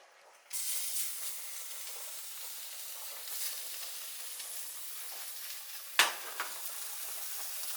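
Meat sears in a hot pan, a steady bright sizzling hiss that starts abruptly and holds throughout, with a sharp spike of crackling partway through as more meat hits the pan.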